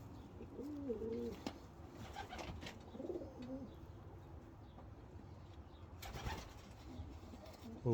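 Soft, low pigeon cooing repeats a few times close by, with faint rustling and a brief flutter near the end.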